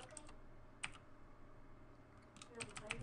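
Quick bursts of typing on a computer keyboard, a short flurry at the start, a lone tap, then a faster run of key clacks near the end, faint and close with light background hum.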